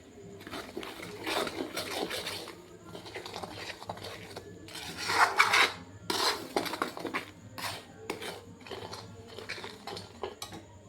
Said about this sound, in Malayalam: എന്നിട്ട് വീണ്ടും ഇത് നന്നായി ഒന്ന് ഇളക്കി കൊടുക്കാം.